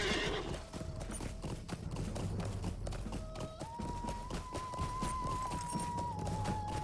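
Horse hooves clip-clop steadily at a brisk riding pace in the game Lord of the Rings Online, close and rhythmic, with a whinny near the start and soft tonal game music underneath.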